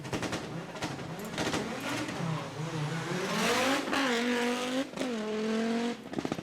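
Rally car on a hill climb, engine revving hard through rising and falling gear pulls, with sharp shifts and crackles, loud and close, no talk over it.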